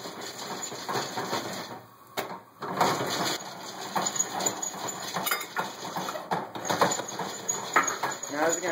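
Sugar gets stirred into hot popping popcorn for kettle corn in a crank-stirred pot over a flame, making a busy metallic clatter and scraping with irregular ticks and pops, fairly quiet and close.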